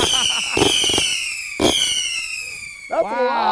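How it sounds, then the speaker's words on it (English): Fireworks kicked down a hill go off in sharp, loud explosive bursts, two big blasts about a second apart followed by a third crackling burst, with excited voices shouting in between. "I think he's just gonna kick the fireworks down the hill."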